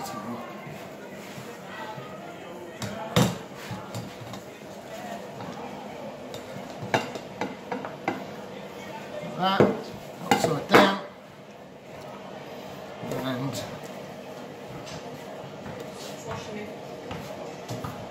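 A hot baking dish and plate handled while turning out a pineapple upside-down cake, with scattered clinks and knocks of crockery in a quiet kitchen and a couple of louder clattery bursts midway.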